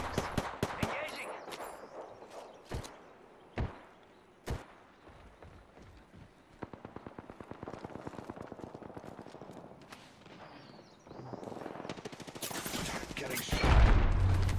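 Rapid gunfire in the battle royale shooter Apex Legends, beginning with a few loud isolated shots and building into sustained automatic bursts with heavy impacts near the end.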